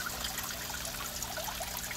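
Water trickles steadily into a garden pond, a soft, continuous, close-up burble with no voices.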